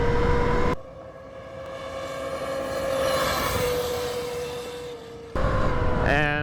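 Talaria Sting electric motorbike with a Torp controller at full throttle on a top-speed run, a steady rising electric whine with wind rush that swells over several seconds, bracketed by louder bursts at the start and end.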